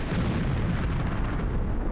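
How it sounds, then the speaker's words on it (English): A rumbling explosion from the Tomb Raider video game, a loud, sustained roar that fills the whole clip without a break and with no talking over it. "And then Lara runs away from the explosion"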